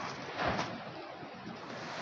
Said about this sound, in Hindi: बहुत ही ठंडी हवा चल रही है अभी यहाँ पे।